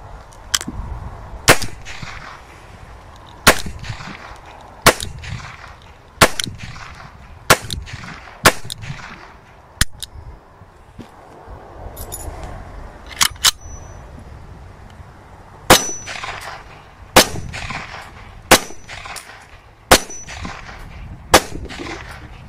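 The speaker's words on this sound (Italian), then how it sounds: "E ora seguitemi per la prova di sparo." Sharp, loud gunshots from blank pistols fire one at a time at irregular intervals, about a dozen cracks with short echoes over a low background rumble.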